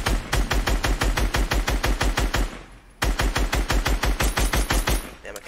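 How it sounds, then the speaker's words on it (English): Rapid automatic gunfire in a battle royale video game, loud and close, with two long bursts of evenly spaced shots separated by a brief pause. "They're getting shot at by somebody."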